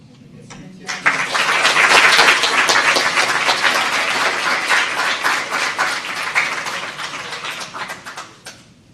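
An audience at a school district board meeting gives a round of applause for retirees, with dense, sustained clapping that builds quickly, holds for several seconds and tapers off at the end.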